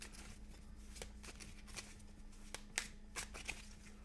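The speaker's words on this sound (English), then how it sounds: "We're going to just shuffle these up nice and quick." A deck of playing cards for a solo game being shuffled quickly, with soft riffling and several sharp snaps and flicks of cards, close and fairly quiet against a low steady hum.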